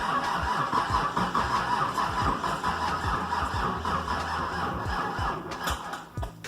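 A Nissan 300ZX Z31, newly fitted with a replacement fuel pump, cranks with a rapid rhythmic starter churn, then catches and settles toward a rough idle, close and loud, with no one talking.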